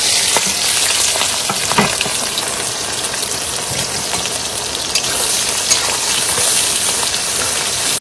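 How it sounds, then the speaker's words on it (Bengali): Chopped onion and garlic hit hot oil for a crab and potato curry, setting off a loud, dense, crackling sizzle that stays close and steady before cutting off abruptly at the end. "তেল গরম হয়ে গেছে, এবার দিয়ে দেবো পেঁয়াজ রসুন"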